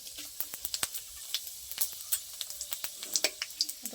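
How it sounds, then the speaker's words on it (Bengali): Three dried red chillies fry in hot mustard oil with five-spice seeds, giving scattered sharp crackles and pops at an irregular pace over a faint, steady sizzle, close up with no talking. "আর দিয়ে দেবো 3টে শুকনো লঙ্কা। আমি ফাটিয়ে দিয়ে দেবো।"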